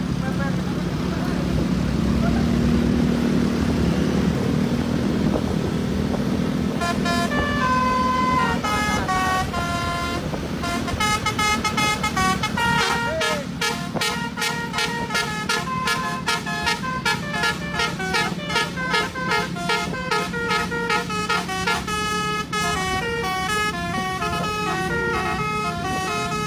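Buses racing at night blare melodic telolet horns in repeated tuneful bursts over loud engine roar, with voices heard beneath.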